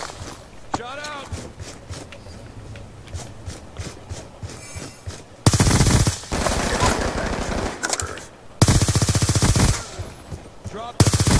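Type 25 assault rifle from the shooter game Black Ops 2, firing in loud sustained bursts with short gaps between them, mixed with game effects and a voice talking during the quieter opening.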